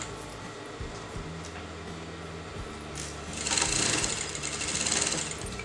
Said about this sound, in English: I'm going to sew this together.